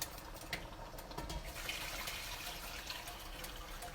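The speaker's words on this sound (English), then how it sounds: "Now we're going to add the rest hot water from the pot over here" Hot water poured from a pot into a pot of brown stew cow foot and gravy, a faint continuous splashing trickle close by with no talking.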